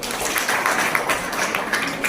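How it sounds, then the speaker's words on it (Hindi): A room of school students claps together at a National Science Day classroom demonstration, with steady, dense applause that holds at an even level for about two seconds. "ताली बजाइए"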